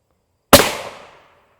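A single close, loud gunshot fired at an NIJ Level III+ body armor plate, a sharp crack that decays over about half a second.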